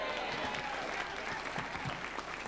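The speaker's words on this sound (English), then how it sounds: "Applause." Continuous audience applause at a stand-up comedy show, a steady wash of many hands clapping, heard at a modest level with faint crowd murmur beneath.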